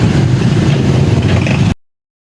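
Continuous roar of nearby street traffic, a dense engine drone that runs loud and unbroken, then cuts off abruptly at the end.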